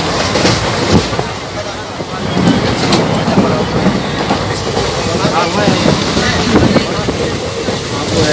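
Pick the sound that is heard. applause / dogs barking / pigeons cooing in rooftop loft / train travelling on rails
train travelling on rails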